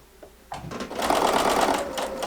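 A sewing machine stitching a quilt made from scraps, a steady whirring run of stitches that starts after a faint tap and stays close and even.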